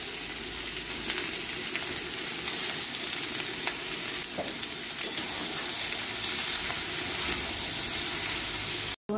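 Dry chillies, bay leaf and cumin seeds sizzle steadily in hot oil for a Bengali bottle gourd dish, a continuous close frying hiss with occasional small pops and no talking.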